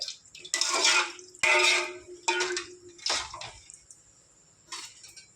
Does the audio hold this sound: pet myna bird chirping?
no